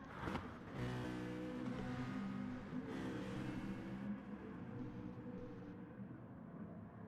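Race cars in Gran Turismo drive past with a steady, droning engine roar that rises and falls as they close up through the corners, moderately near, with no talking.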